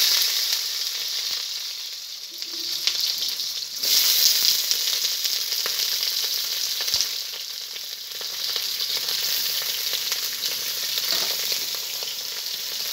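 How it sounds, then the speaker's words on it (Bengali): Pointed gourd (potol) pieces frying in hot oil, a loud, continuous sizzle that holds steady close by, with a few light clicks as the pieces are moved. "বন্ধুরা তেল গরম হয়ে গেছে, প্রথমে আমি পটলটাকে ভেজে নেব।"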